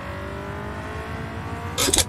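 A car being driven, its engine droning steadily with a low hum and a brief rise in revs near the end.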